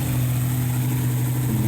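A newly built V10 engine in a Mustang runs just after its first startup, holding a steady high idle near 3,000 RPM with a loud, even droning hum throughout, no voices.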